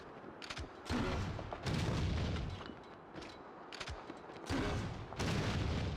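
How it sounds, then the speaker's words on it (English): Heavy booming blasts from a grenade launcher in the survival horror game Resident Evil Outbreak, fired to break open a box, several loud thuds with rumbling tails separated by short quieter gaps. "Now I used the grenade launcher to break the rocket launcher box."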